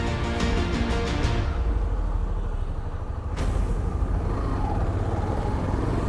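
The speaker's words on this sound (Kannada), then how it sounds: "ಇನ್ನೊಂದು ಎಕ್ಸ್ಟ್ರೀಮ್ ಲೆವೆಲ್ ಟೆಸ್ಟ್ ಮಾಡೋಣ ಥರ್ಡ್ ಗೇರ್ ಹೇಗಿದೆ ಅಂತ ನೋಡೋಣ" A Hero Xtreme 125R motorcycle riding in third gear through Bengaluru city traffic, its steady engine drone loud and continuous with wind and road noise, a sharp transient partway through, no talk.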